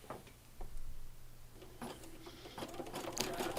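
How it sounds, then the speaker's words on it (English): Embroidery machine running a tacking stitch to hold patterned fabric on a mug rug in the hoop, a steady rapid mechanical stitching rhythm with light ticking, moderately quiet and growing busier toward the end, no talk. "I'll put this back into my machine, and it's going to run stitch number 5"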